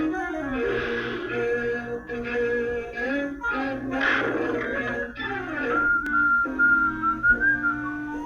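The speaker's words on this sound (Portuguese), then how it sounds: "ele acabou de sair assobiando a música da polca do Pica-Pau" A person whistles a bouncy polka tune from a 1950s Woody Woodpecker cartoon, bright and close, in phrased bursts with brief pauses between melodic runs.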